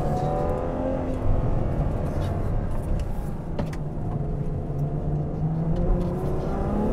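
Ferrari 812 Superfast V12 engine pulling hard under acceleration, a loud steady roar with rising harmonics and a quick gear change partway through, heard from close by with no talk.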